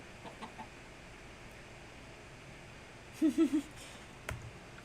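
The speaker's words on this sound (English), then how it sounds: "There's a chicken." A chicken in the Minecraft video game gives a short run of three quick clucks over a quiet, steady game ambience, with a faint click shortly after.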